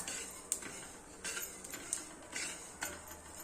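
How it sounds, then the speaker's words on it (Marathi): Mustard seeds popping in a hot pan while making amla pickle give sparse, faint crackles and ticks, a few sharper pops standing out among soft sizzling. "आता आपलं मोहरी उडत आहे तटतट तटतट"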